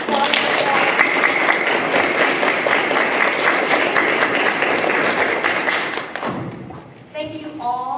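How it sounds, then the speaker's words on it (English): An elementary school audience applauding spelling bee winners at a trophy presentation, a loud sustained burst of clapping for about six seconds that dies away, followed by a speaking voice. "Let's give another round of applause."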